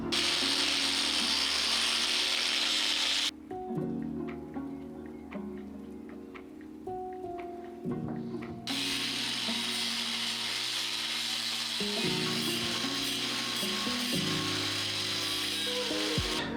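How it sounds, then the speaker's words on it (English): An angle grinder cutting material while upgrading the speakers in a Lexus GX470, heard as a loud, harsh, sustained whine that drops away briefly in the middle, then resumes with shifting pitch, with no talking. "To cut it, this is what I'm gonna use, just an angle grinder"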